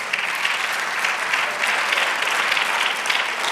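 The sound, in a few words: congregation applauding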